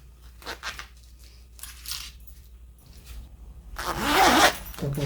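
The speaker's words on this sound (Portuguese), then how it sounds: "Agora, aqui, colocamos o zíper, nós vamos agora colocar o cursor desse lado e do outro lado também." Zipper slider being fitted onto the zipper tape of a sewn thermal school lunch bag: scattered short scratchy zip rasps and fabric handling, ending in a longer louder zipping run, close and alone.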